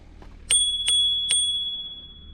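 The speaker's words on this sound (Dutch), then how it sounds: "En dit is de bel." A bicycle bell rings three times in quick succession, bright and close, with the last ring left to fade slowly.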